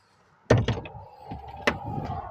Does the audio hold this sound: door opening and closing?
yes